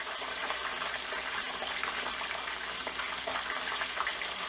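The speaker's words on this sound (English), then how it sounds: "let's put our egg rolls in there. Nice seasoned hot oil" Egg rolls frying in seasoned hot oil make a steady, dense crackle and bubbling that runs unbroken throughout, fairly close and moderately loud, with no voices.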